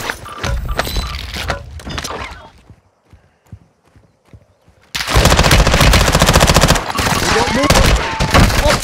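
Rapid automatic gunfire in Call of Duty Warzone 2.0, loud and close, with dense bursts at the start, a quieter gap of scattered distant shots, then a long sustained volley; some game voice lines mixed in.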